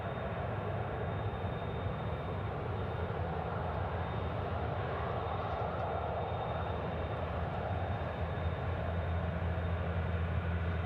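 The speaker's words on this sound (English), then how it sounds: "Looks like it is rolling, and it's going to be the next to get airborne here." An airliner rolls for takeoff at night at Sydney Airport, its engines a continuous broad roar held steady and fairly distant, with no voices over it.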